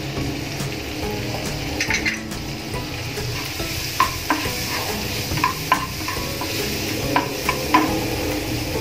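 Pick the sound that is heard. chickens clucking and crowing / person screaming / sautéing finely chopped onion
sautéing finely chopped onion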